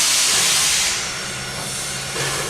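Stationary 2-8-2 steam locomotive No. 30 on the Texas State Railroad lets off a loud, steady broadband hiss of steam close by, easing slightly partway through, with a faint low hum underneath.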